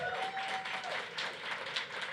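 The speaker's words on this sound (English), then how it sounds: "give them a hand of applause" Audience at a city council forum applauding local firefighters, modest scattered clapping of fairly low loudness, with a faint tone fading in the background.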